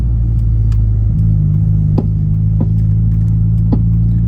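A Mitsubishi Evo IV engine hums steadily from inside the cabin while a few faint clunks and knocks from the suspension, likely worn sway bar end links, sound at irregular intervals when turning.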